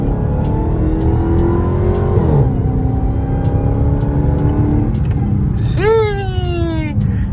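A Dodge Charger Hellcat Redeye on new 315 tires accelerates with a loud engine rising through the gears, shifting with a drop in pitch, then revs hard again near the end under road and wind noise.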